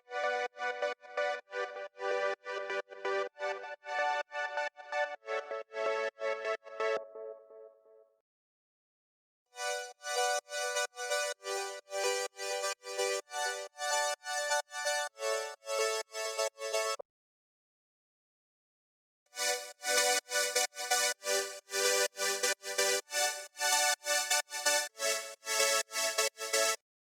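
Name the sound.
layered synth chords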